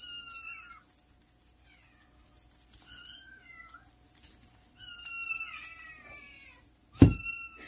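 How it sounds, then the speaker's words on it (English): Cats meow several times in a kitchen, with drawn-out, wavering cries in separate bursts, fairly close and clear, followed near the end by a brief loud clatter. "These cats, they need some attention."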